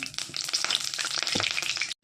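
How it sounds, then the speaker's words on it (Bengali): Small masoor dal (red lentil) fritters with onion, salt and turmeric sizzling in hot oil in a wok, a steady dense crackle and hiss, close and continuous, ending abruptly. "লাল লাল করে ডালিয়া বড়াগুলো ভেজে নেব"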